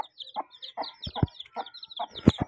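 A chicken clucks in short, repeated bursts, close by, with a few louder squawk-like clucks near the end.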